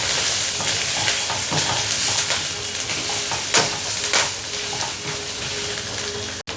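Fish head curry paste with lemongrass stirred in a hot pan for a Malaysian giant golden snapper curry: a busy close sizzle broken by repeated scraping stirs, ending in a sharp knock.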